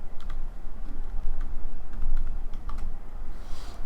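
Code being typed on a computer keyboard in the Sublime Text editor: a steady run of close, light key clicks at an irregular pace over a low background hum.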